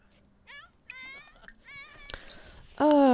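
A cat meows in the video game The Sims 4: several short, separate meows spaced across the stretch, building to a louder, drawn-out meow at the end.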